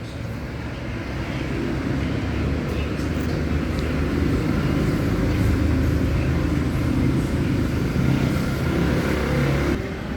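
A Skygo Prince 125 single-cylinder motorcycle engine runs steadily close by, a dense low rumble holding constant for the whole stretch with no clear revving.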